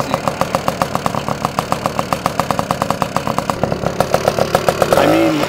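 A 1985 Safari Turbo moped, a barn find just started for the first time, idles with a steady, rapid two-stroke putter from its pipe, close and fairly loud, before the revs briefly rise at the end.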